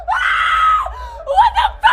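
A woman in a film screams hysterically after a pen is stabbed into her thigh, one long loud shriek followed by several shorter sobbing cries.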